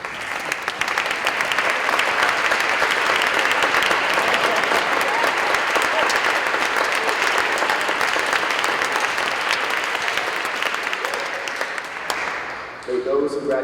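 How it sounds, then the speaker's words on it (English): A congregation at a Wednesday worship service applauds long and steadily, a dense, loud roar of many hands that eases off near the end as a voice begins speaking. "give you a round of applause"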